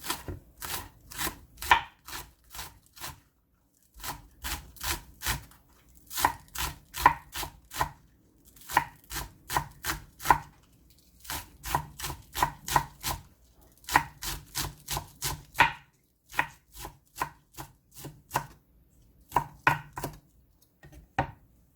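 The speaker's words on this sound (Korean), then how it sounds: "양념장을 만들기 위해서 쪽파를 썰어주세요" A knife chops green onions (scallions) on a board for a noodle-soup seasoning sauce, heard as steady rapid bursts of close, crisp blade strikes separated by short pauses, with no talking.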